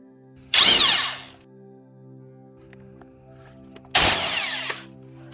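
An impact wrench that is not especially strong works on the crank pulley bolts of a Suzuki Forenza, firing two loud, close bursts of about a second each, separated by a quiet stretch with a faint low hum.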